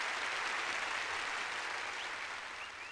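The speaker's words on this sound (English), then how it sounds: "How are they clapping with no arms?" Crowd applause in the video game Omori, a steady dense clapping that fades slightly toward the end, with no one talking over it.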